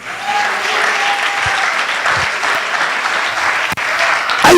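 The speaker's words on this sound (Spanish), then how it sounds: "Denle un aplauso al Señor." Congregation applauding during a church sermon: sustained, dense clapping from many people in a reverberant hall, close and loud throughout.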